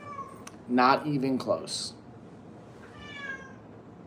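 A pet cat meows close by in a drawn-out, wavering cry, with a quieter follow-up call after someone speaks briefly.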